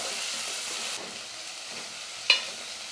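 Onions with curry leaves sautéing in a pan, a continuous hiss of frying that eases after a second, with one sharp utensil clink near the end.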